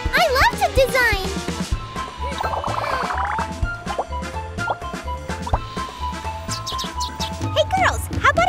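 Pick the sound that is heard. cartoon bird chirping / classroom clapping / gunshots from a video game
cartoon bird chirping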